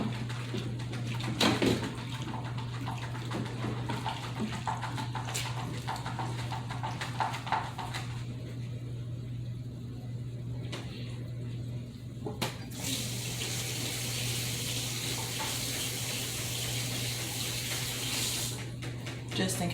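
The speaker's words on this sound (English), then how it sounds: "I washed my hands in my bleach water and then rinsed them." Water runs steadily from a kitchen tap into a sink for hand washing, a continuous faint splashing stream with brief bumps and clatters, the flow character shifting midway and no talk.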